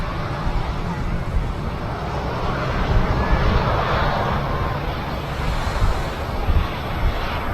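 Boeing 767 arriving from Turin at Manchester Airport, its engines a steady broadband roar spread across the whole clip, with wind buffeting the microphone and no clear peak or fade.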